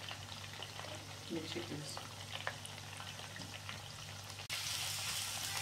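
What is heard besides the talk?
onion and mixed vegetables frying in oil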